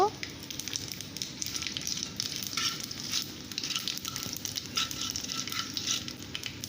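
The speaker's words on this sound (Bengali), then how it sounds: "দিয়ে এবার কালো জিরে আর তেজপাতা ফোড়ন দিলাম, দিয়ে ওটাকে একটু ভেজে নেব" Nigella seeds and a bay leaf frying in hot oil in a kadai: a steady, close, crackling sizzle with fine spattering pops that runs the whole time, with a voice speaking quietly over it.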